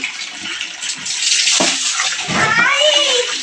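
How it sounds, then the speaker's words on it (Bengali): Children bathe themselves, splashing and pouring water close by in continuous bursts, while a voice and other talk break in over the running water. "ওই যে নিজেরাই চান করছে চান করে নিয়েছে"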